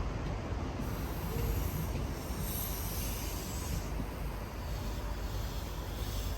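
Steady broadband hiss and rumble of a ScotRail HST train idling at a station, constant and fairly loud, with a faint high whine above, no voices.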